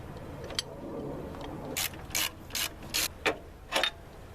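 A hand ratchet backs out bolts and nuts on a transmission torque mount bracket of a 1996-2000 Honda Civic automatic, giving a quiet, close series of about six short clicking bursts over a faint background.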